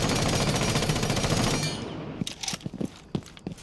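A gun fires in Rainbow Six Siege: a dense continuous burst of automatic fire that stops partway, followed by scattered sharp clicks and footstep-like taps.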